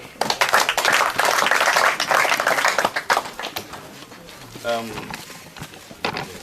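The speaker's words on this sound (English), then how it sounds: "We got an applause for him" A crowd at a project commissioning ceremony in Enugu, Nigeria claps and cheers for a couple of seconds, then the applause fades into scattered claps, chatter and background noise.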